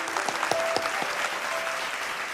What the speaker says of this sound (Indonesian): boleh kita berikan tepuk tangan sekali lagi